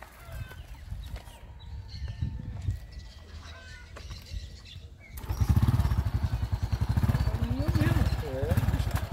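A Honda Pop 110i motorcycle engine idles low under talk, then revs up loudly and steadily, with the engine note rising and falling in pulses.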